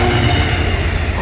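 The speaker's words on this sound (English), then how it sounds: "And it's going to be a freight train, which is about 20 miles long." A long freight train rolls past close by, a loud, steady rumble with a continuous rattle of wagons on the rails and no pause or voices.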